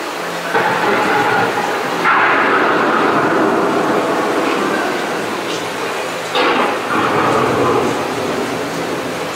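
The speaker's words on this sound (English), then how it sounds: "The approaching storm may seem violent and destructive to us" A staged thunderstorm effect on Epcot's Living with the Land boat ride produces a loud, sustained rumble and rushing wash, with two abrupt surges that resemble thunder crashes and heavy rain, filling the whole stretch.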